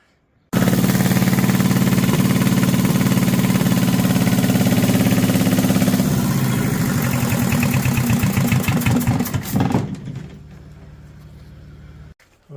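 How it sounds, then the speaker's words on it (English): A Lister Petter engine, freshly tinkered with and still needing tuning, starts abruptly and runs steadily at a loud, even idle for about ten seconds before its rhythm loosens and it dies away. "Right, so I've got that engine running."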